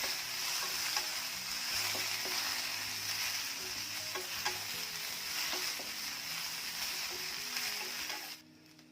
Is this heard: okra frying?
yes